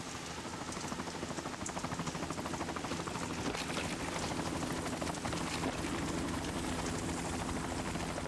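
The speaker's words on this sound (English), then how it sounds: "Is that helicopter still within sight range of you?" A helicopter drones steadily in the Metal Gear Solid 2 video game, with a constant rotor-and-engine hum holding at an even moderate level throughout and no speech.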